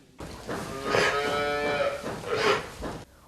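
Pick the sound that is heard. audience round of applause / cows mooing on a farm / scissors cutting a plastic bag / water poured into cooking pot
cows mooing on a farm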